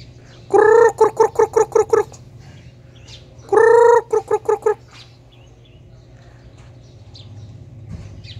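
Two loud bursts of rhythmic chicken clucking, close by, separated by a pause, over a steady low hum.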